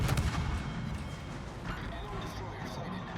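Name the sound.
French torpedo boat Orage firing guns, World of Warships game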